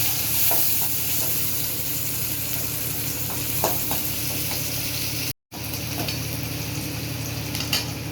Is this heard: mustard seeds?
yes